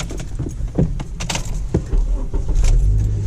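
A 2009 Honda Civic Si started from inside the cabin: keys jingle and clicks come first, then a low engine rumble rises and settles into a steady idle toward the end.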